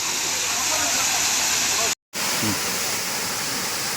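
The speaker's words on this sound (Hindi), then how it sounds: "फुल्ली झरन वाटरफॉल जो भवानीपटना से 20 किलोमीटर की दूरी पर स्थित है" Phurli Jharan waterfall in the Kalahandi forest near Bhawanipatna, heard as a loud, steady broadband roar of falling water that fills the scene, with one brief cut to silence midway.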